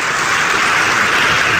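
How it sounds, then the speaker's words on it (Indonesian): A congregation at a church sermon applauds, giving a dense, continuous wash of clapping that is loud and fills the space, with no voices over it. "tepuk tangan dong buat Tuhan"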